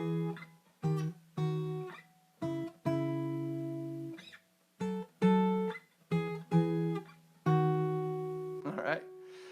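Guitar from a song, a low bass note plucked with the thumb and a higher note picked with the index finger, played in a halting, uneven pattern of separate notes, close and fairly quiet.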